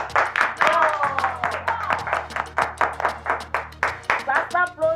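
A small audience claps in a quick, rhythmic pattern of distinct handclaps, close and fairly loud, over a steady low hum with a voice faintly audible near the end.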